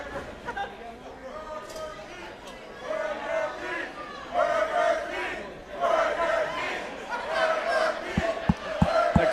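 Wrestling event crowd in Miami, a loud, rowdy arena mix of shouting, jeering and chatter that swells in waves, with a few sharp thuds near the end.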